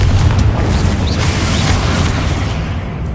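Confringo spell explosion in the Hogwarts Legacy game, a loud continuous rumbling boom that holds steady before fading slightly at the end.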